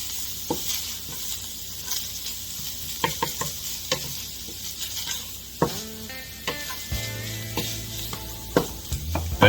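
A garlic mixture sizzles in a hot pan while a utensil stirs and scrapes through it, giving irregular clicks and taps over a steady frying hiss, close with no voices.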